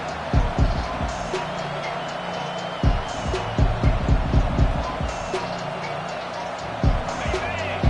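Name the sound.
stadium crowd cheering at a college football game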